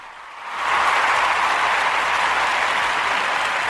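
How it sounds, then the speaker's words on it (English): A studio or live audience bursts into applause after a short quiet lead-in, then keeps up a steady, dense wash of clapping at full strength to the end, with no talking over it. "we want to give y'all a round of applause for your support"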